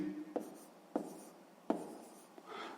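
Pen strokes on paper while working a sixth-grade maths exercise, a few sharp taps and short scratchy writing sounds spaced across a quiet, close recording with no talk.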